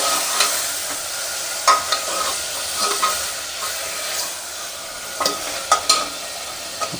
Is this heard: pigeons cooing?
no